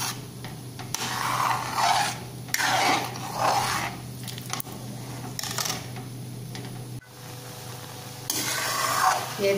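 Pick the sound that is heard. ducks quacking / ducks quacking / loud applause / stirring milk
stirring milk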